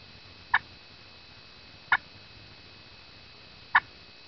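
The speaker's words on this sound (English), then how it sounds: "Cluck, you just want to pull the striker towards you in a short," Three sharp, isolated clucks from a turkey friction call, each made by pulling the striker in a short, abrupt stroke, spaced more than a second apart, over a quiet, faintly hissing background.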